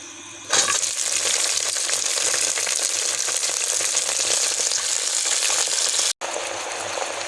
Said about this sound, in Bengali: এখন আমি সব সবজিগুলো একসাথে দিয়ে দেবো